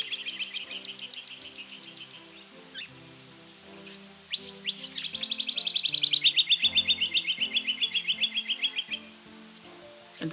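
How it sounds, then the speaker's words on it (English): A black and white white-winged triller calls from a high perch, with scattered chirps building into a loud, fast, evenly pulsed trill that carries clearly over quiet bush sounds. "High on a perch, a black and white bird trilling away. This is the white-winged triller."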